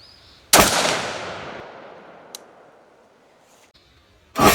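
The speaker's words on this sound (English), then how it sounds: "So I'm going to go ahead and fire another one and see what we got." A 22-250 AR-10 rifle fires one sharp, loud shot that booms and echoes away slowly across open ground, followed by a second blast cut off at the end.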